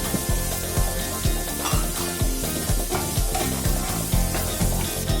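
Chopped onions sautéing with salt in a pan for oats idli, loud close sizzling broken by rhythmic spatula scrapes and knocks against the pan.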